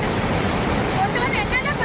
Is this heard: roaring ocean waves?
yes